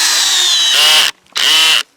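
A power drill bores into a maple tree for sap tapping, whining loudly in two close bursts with a brief stop between them, up close and without talk.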